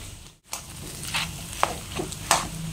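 Spices and fried peanuts sizzle and get stirred in a pan, a steady fry hiss broken by scattered scraping clicks of the spoon.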